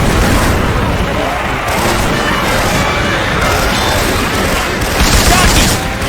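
Rapid, loud Syphon Filter weapon sound effects fire in Left 4 Dead 2 gameplay, dense bursts of gunfire and crashing impacts running almost continuously with brief pauses, amid chaotic game noise.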